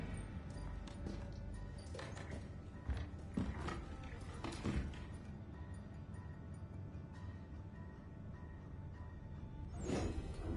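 A lock being picked in the video game Assassin's Creed 3, a steady run of metallic clicks and mechanical rattles over a constant background, with a louder burst of clatter near the end.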